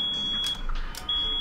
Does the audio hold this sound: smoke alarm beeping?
yes